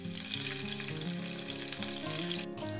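Green chillies fry in three tablespoons of hot oil with mustard and cumin seeds in a pan, giving a loud, continuous close sizzle with crackling and popping throughout.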